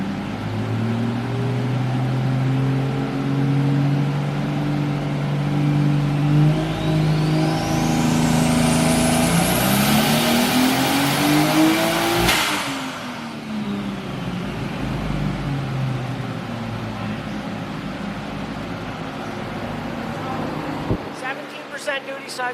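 Toyota Aristo engine on a dyno with boost dialed in, revving up hard in a long rising sweep to a loud peak, then dropping back to a lower drone.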